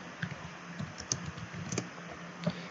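Keystrokes clatter on a computer keyboard in a quiet room, a quick uneven run of light clicks spaced through a short burst of typing, with no voices.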